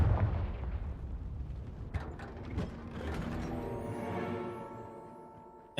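A Confringo explosion spell in a Harry Potter video game gives a heavy rumbling blast that rolls into mechanical clattering and a fading ringing tail, ending with a sharp thump.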